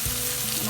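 Aromatics with crushed ginger sautéing in a hot pan, a dense continuous sizzle filling a brief moment, close and steady with no voices.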